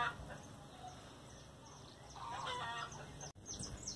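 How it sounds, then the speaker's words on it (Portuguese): Chickens cluck in the background on a rural farm with many plants and flowers, faint and scattered over steady outdoor ambience, with a brief louder burst near the end. "As galinhas cantando ao fundo."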